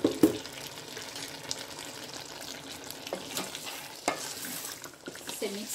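Chicken karahi fries in a pot while spices are stirred in, a soft continuous sizzle under repeated scraping strokes and occasional clatters against the pot.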